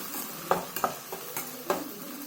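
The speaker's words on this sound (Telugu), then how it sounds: "ఉల్లిపాయ పచ్చిమిరపకాయ వేసి తిప్పుగా ఉండాలి లేకపోతే మాడిపోద్దు" Onions and green chillies fry in a pan while being stirred, making a soft continuous sizzle broken by several crisp scraping clicks from the utensil.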